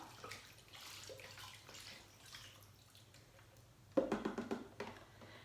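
Four cups of bone broth poured into a soup pot of lemon chicken soup with sweet potatoes, a sudden splashing liquid stream starting partway through after quiet kitchen background, close and moderately loud.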